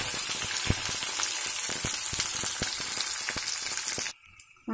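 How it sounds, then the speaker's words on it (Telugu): Sliced onions and curry leaves frying in a pan for a thotakura curry, a dense close crackling sizzle with scattered pops that runs steadily and then drops away abruptly near the end. "ఇది 1-2 నిమిషాలు వేయిద్దాము"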